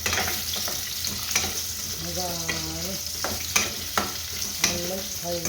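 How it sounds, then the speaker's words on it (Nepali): Potatoes fry in a pan with a constant close sizzle while a utensil stirs and scrapes in repeated bursts, no one speaking. "आलुलाई यसरी भुट्ने मजाले"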